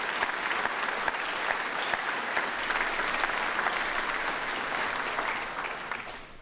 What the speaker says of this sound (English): let's give a round of applause to Mark and the team at Albemarle